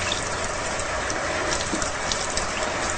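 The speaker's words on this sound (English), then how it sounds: "you need to put them under the water and wash each leaf separately" Steady running water splashing as leek leaves are rinsed one by one under a kitchen tap, a continuous close gushing wash with no talk.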